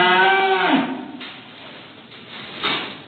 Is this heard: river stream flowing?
no